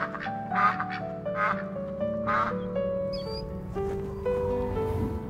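Ducks quacking and calling at the Bolsa Chica wetland bird sanctuary, with overlapping nasal quacks and honk-like calls repeating in irregular bursts over a droning background, fairly near and without talk.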